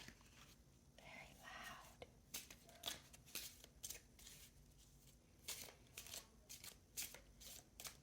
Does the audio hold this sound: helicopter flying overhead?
no